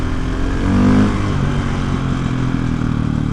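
A motorcycle engine revs loud and close during a wheelie, a steady roar with a brief rising surge near the start, then holding at a high, rough drone.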